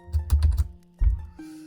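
Computer keyboard keys clatter in two quick bursts of close, crisp clicks separated by a short pause, ending with a single soft tap and a low hum.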